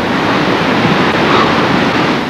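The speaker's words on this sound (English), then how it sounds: "there was a river that was more than 6 feet deep" A flash-flooded river at Sego surges after a heavy rainstorm, a loud, constant broadband roar of rushing water with no break across the whole stretch.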